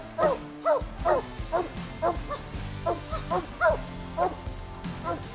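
A pack of hunting hounds on a bear hunt barks and yips over and over in a steady, rhythmic baying, at moderate distance and fairly loud, with no talking.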